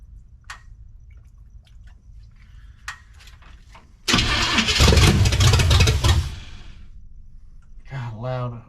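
A 1972 Chevrolet C10 truck's small-block 350 V8 with open headers, unstarted for over twenty years, cranks with a sputtering burst, then roars loudly for about two seconds before cutting out; faint clicks and a brief voice surround it.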